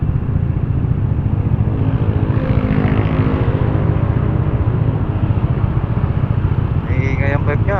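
Several Honda PCX160 motorcycles with loud aftermarket exhaust pipes rumble steadily up close, a continuous throaty drone throughout, with people talking faintly over it on a ride through Batangas.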